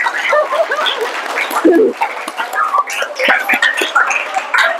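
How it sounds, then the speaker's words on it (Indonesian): A classroom of students claps after agreeing on a mass dance for their dance lesson, a dense, fairly loud patter of hands with some chatter and laughter mixed in. "Ya, boleh tepuk tangan lagi."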